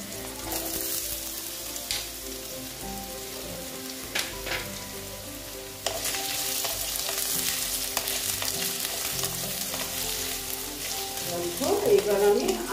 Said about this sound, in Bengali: এইবার আমি আলুগুলোকে ভালো মতন ভেজে নেব।